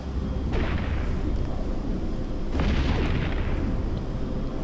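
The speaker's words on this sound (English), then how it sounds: "Doing some good damage at this distance with all the cannons." Heavy booming spaceship cannon blasts in EVE Echoes, two big bursts about two seconds apart over a constant rumbling engine drone.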